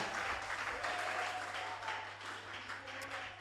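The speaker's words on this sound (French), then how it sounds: "Acclamons pour honorer ce couple merveilleux dans le nom de Jésus" A church congregation applauds a couple, sustained clapping from many hands at moderate distance, fairly even throughout with a soft rumble underneath.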